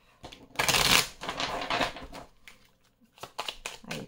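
Deck of divination cards being reshuffled by hand for a weekly Aries reading, a loud riffling burst followed by softer repeated card flicks and taps, close and alone.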